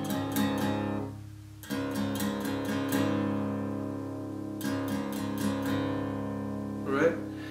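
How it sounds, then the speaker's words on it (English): Open, unmuted strumming on an acoustic guitar from a song lesson. Bursts of several quick strums let the strings ring out fully between groups. It sounds close and moderately loud, with no speech. "If you didn't put your palm on the strings, it would sound like this."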